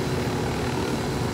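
A helicopter in Ghost Recon Wildlands gives a steady, dense rotor and engine drone that holds at an even loudness throughout, with no voices.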